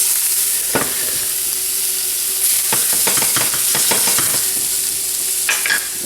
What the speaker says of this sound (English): Now we're going to add in our mushrooms at that point. We're going to pan roast those.